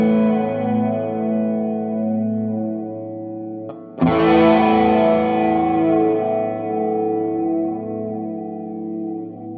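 Overdriven electric guitar runs through an Ibanez Bi-Mode Chorus at slow speed, one side at maximum width, giving a swirling, shifting tone; a sustained chord rings out, then a fresh strum near the middle blooms and slowly decays.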